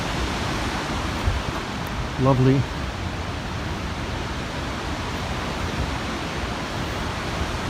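Gold Creek flows steadily beside a hiking trail, a constant broad rushing wash of water heard up close, and a person briefly speaks once over it.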